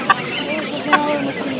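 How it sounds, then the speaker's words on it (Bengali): A Silkie rooster at a busy weekly bird market gives two short clucks amid a murmur of crowd noise and nearby voices. "এই সিল্কিটা কত যাচ্ছেন না মোরগ"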